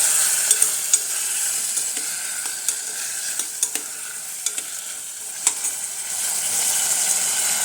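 Cauliflower, potato and peas fry in a pulao pan with a loud, continuous sizzle, punctuated by scattered small clicks and taps from stirring.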